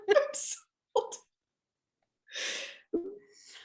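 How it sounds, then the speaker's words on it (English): An animatronic gopher on the Splash Mountain ride makes short, close sneeze-like bursts, a few sharp breathy blasts separated by silence. "The little gopher may sound like he's sneezing"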